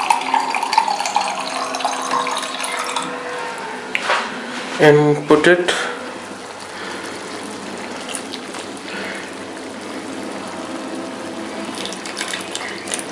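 Tap water runs steadily into a cooking pot while preparing lamb curry, a continuous close hiss with brief clattering handling of the pot midway, and a voice speaking briefly over it.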